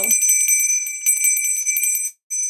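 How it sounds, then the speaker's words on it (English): A bell sound effect rings bright and sustained with rapid repeated strikes, loud and close, cutting out briefly before resuming. "You'd like a bell?"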